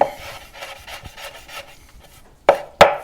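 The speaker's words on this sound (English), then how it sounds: "Sprigs of parsley. We're just going to cut the tips off of them." Knife chopping through parsley sprigs on a wooden cutting board: soft repeated rubbing slices, then two sharp, close cuts near the end.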